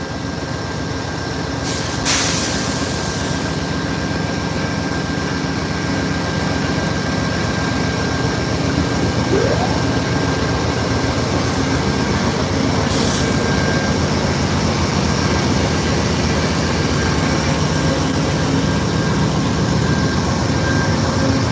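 An Amtrak California Zephyr passenger train pulls out of the station at Ottumwa, Iowa, with a steady loud rumble of rolling cars and a brief hiss near the start, continuous and close throughout.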